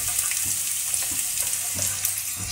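Finely chopped green chillies and onion frying for veg manchurian, a steady close hiss and sizzle with faint stirring scrapes running through the whole stretch.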